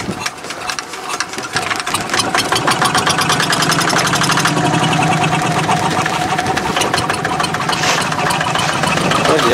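A boat engine runs steadily and loudly close by, its rapid mechanical chugging and knocking rhythm continuous throughout with no pauses.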